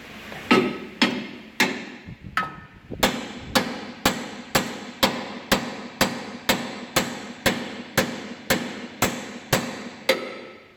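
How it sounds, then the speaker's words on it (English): A hammer strikes metal repeatedly in a steady rhythm, about sixteen sharp ringing clangs close by, with no talking. "Smack it off with the hammer!"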